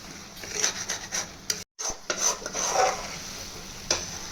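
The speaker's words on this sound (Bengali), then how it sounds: "এবারে এটা দিয়েও কষতে হবে যতক্ষণ না তেল ছাড়ে।" Spice masala for Hyderabadi paneer being sautéed in oil, with a spoon scraping and stirring steadily against the pan over a soft sizzle, close and fairly quiet, with one brief dropout.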